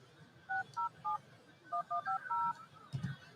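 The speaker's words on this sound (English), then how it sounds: "Get him on the phone." A telephone number being dialed on a phone to reach a contest caller, heard as a series of clear keypad DTMF tones in short bursts, separated by brief pauses, fairly close with faint background noise.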